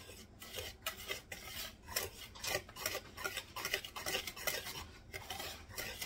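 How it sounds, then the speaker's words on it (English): Dry homemade chocolate cake mix being whisked in a bowl, a steady rhythmic scraping and rasping of the whisk against the bowl, close and fairly quiet with no talking. "So now I'm going to whisk together my chocolate cake mix."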